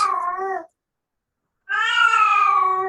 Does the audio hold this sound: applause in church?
no